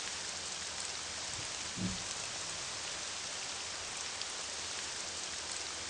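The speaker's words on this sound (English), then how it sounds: "Still raining." Soft, steady rainfall in the video game Morrowind, a quiet, even hiss of drops with a single faint low thump partway through.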